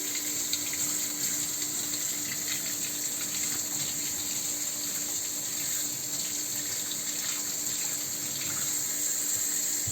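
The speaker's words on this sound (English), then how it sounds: "And then we're going to wash these, again with cold water." A steady stream of cold tap water runs continuously nearby as carrots are rinsed beneath it.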